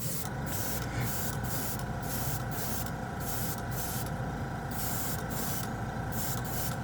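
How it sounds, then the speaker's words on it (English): An airbrush sprays light gray Jumpwind metal paint in a steady, continuous hiss with a faint pulsing texture, close and alone for several seconds. "It just airbrushes beautifully"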